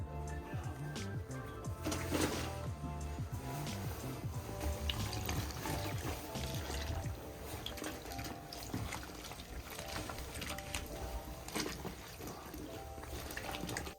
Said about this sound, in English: gonna hand wash it now